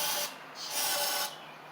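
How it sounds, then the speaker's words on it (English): Carb cleaner sprayed from an aerosol can into the carburetor of a John Deere L110 riding mower, a loud hissing spray in two long bursts, close and without talk. "spray a little carb spray down in here"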